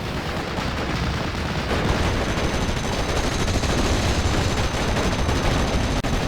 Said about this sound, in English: My artillery just landed